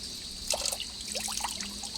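Water dripping and trickling, a quiet run of small irregular drops and splashes close by, with no talk over it.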